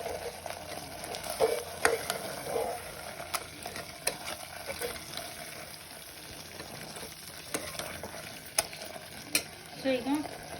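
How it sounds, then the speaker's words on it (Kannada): Chicken with masala fries in a pan, a soft steady sizzle with occasional scrapes and clinks as a spoon stirs it, close but fairly quiet. "ಈ ಮಸಾಲೆ ಎಲ್ಲ ಒಂದು 2 ನಿಮಿಷ ಫ್ರೈ ಆದಮೇಲೆ"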